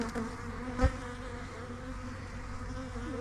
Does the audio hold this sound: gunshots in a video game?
no